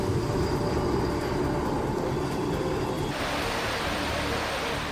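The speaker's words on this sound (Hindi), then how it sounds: "लोकल ट्रेन रुक रुक कर चल रही है।" A Mumbai local train running in heavy rain, a rumbling rail roll with wagon clatter that gives way to a hiss of downpour, steady and fairly loud.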